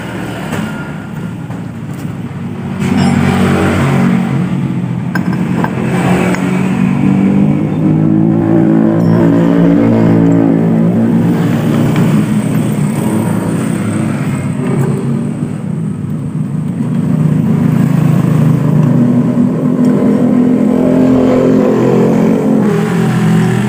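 Honda Beat scooter engine with a helicopter-like whir, idling briefly before revving up and holding a loud, sustained drone, then climbing again toward the end.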